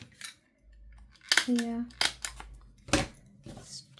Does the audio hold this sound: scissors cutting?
yes